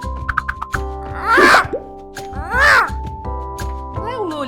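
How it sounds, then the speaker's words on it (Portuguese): Crow cawing, as animal sounds for young learners: two loud, harsh, drawn-out caws rising and falling, separated by a pause, with speaking voices before and after. "Este é o som do corvo e ele vai crocitar outra vez."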